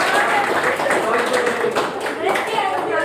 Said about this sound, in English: Please give applause to Resti and Rafli.